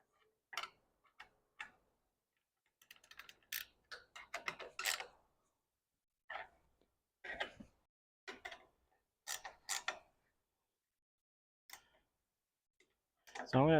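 A ratchet tightens 13 mm bolts and nuts on hitch-mounted awning brackets, giving short bursts of quick metallic clicks separated by pauses, close up and fairly quiet.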